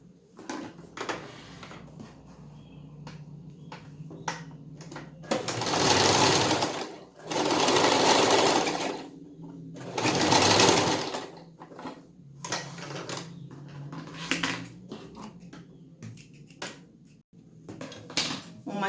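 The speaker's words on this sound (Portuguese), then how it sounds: "E a gente vai costurar aqui, dando um pezinho de máquina" A sewing machine stitches a fabric hem while making a small stuffed toy dog, running in several loud whirring bursts of varying length, separated by brief pauses and handling clicks.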